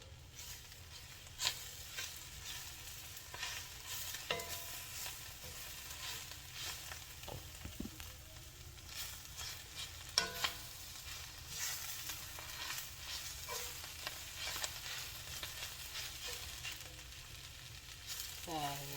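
Kale sizzles and crackles in a hot frying pan while being turned and stirred, with scattered taps and scrapes over a steady, fairly quiet frying hiss.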